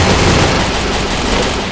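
Gunfire from the mobile battle royale game Free Fire rattles out in a loud, continuous burst of rapid automatic shots that fills the whole moment with no speech over it.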